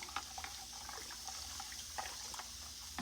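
Beef broth pours and trickles steadily into a pan with small splashes and drips, fairly quiet and close, with no talking.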